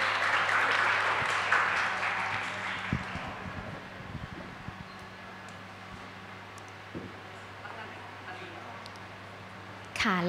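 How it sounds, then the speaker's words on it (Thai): Guests at an engagement ceremony clap for the bride and groom, a burst of applause that fades within a few seconds into quiet outdoor ambience with a few faint knocks and rustles. "ขอเสียงปรบมือดังๆให้กับคุณกวางคุณเสส"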